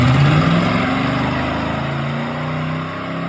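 A 1979 Pontiac Trans Am engine revving up loud and near, its pitch climbing then easing back into a rough, steady drone, with no voices over it.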